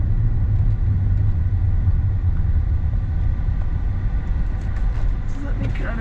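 Interior of a car driving slowly through a Detroit residential neighborhood of brick homes, with a steady low engine and road rumble throughout and a person talking over it.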